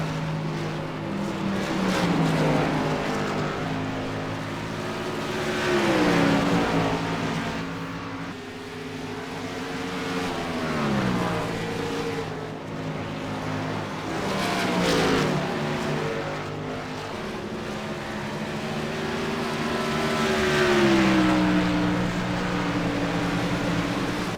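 Race cars in a sim racing game, the 47 car carrying damage, with a steady engine drone whose pitch rises and falls through repeated gear shifts and acceleration, several machines close together and continuous throughout.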